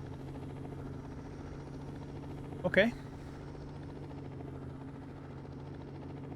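Helicopter on a rooftop in the video game 7 Days to Die, a faint steady rotor drone and hum under a brief spoken word.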